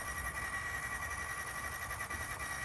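A Fury Tech Komodo RC car motor runs at full throttle while the car climbs a loose, dusty dirt hill covered in pine needles, giving a steady, loud, continuous mechanical drone with no pauses.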